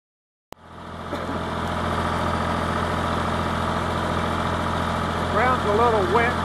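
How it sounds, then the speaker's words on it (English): A farm tractor engine starts with a sharp click and then idles at a steady, loud, close drone during field work, with a few faint higher squeaks near the end. "I'm starting up a hill. Listen to the engine."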